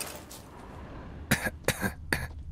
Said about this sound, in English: Why am I coughing? Am I taking damage from something?